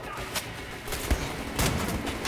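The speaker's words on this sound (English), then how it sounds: "Am I getting shot from behind? I am!" Gunfire from an enemy behind the player in the video game Wolfenstein: The New Order comes as a few sharp, moderately loud bursts over a steady rumbling game background.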